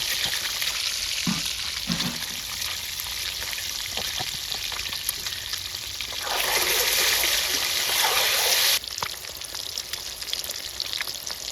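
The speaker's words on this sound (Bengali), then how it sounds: "ডিম ভাজা রেডি নামাবো" Eggs frying in hot oil, three at a time, in a steady bright sizzle and crackle that swells louder for a couple of seconds before settling, with occasional small clinks.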